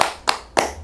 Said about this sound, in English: He just wants to clap for the job